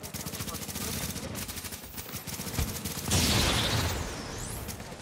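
Rapid bursts of gunfire from shotguns in the video game The Division, coming in quick repeated blasts, with a louder burst near the end and talk from players running over it.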